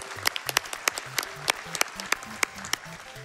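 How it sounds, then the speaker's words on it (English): Scattered clapping from an audience at a speedrun marathon event, a run of sharp, irregular claps spread across the moment at moderate volume with no voices over them. "Clap."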